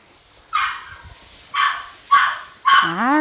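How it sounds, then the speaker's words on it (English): A puppy at a grooming session gives four sharp, separate barks about a second apart, close and loud, the last one drawn out into a rising whine. "so the next puppy's name is Gidget"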